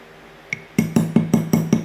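Rhythmic ringing clinks of a utensil striking the sides of a glass container while stirring a homemade skincare mixture for dark spots, about six evenly spaced, close and bright taps after a single earlier tap.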